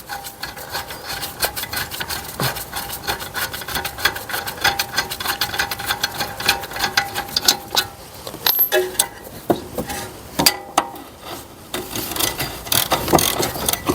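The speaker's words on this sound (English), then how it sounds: "Now I'm just going to use the ratchet on it because we've loosened it off." Ratchet working a bolt loose on the brake of a 2017 Mercedes E220 during a disc and pad change: a steady run of close, fast mechanical clicks with metallic rubbing, continuous and fairly loud, with no talking.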